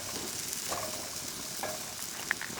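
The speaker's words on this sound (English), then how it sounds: "gonna put some shrooms in the fire here in the pan" Mushrooms fry in a pan set over an outdoor campfire, giving a steady, fairly faint sizzle with small crackles and no talking.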